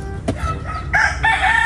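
A rooster crows near a mountain farm path, a bright nearby call of a few strained, harmonic bursts following a short clucking note.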